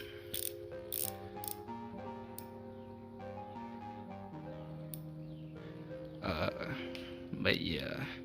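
The unidirectional rotating bezel on an Akula watch gives a few faint, scattered clicks, heard softly under background music and a talking voice.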